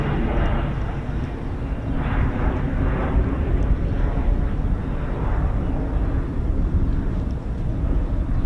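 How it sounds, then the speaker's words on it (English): An Embraer Phenom business jet at an air base gives a steady, loud, broadband roar that holds level throughout, with no talk over it. "And an Embraer Phenom."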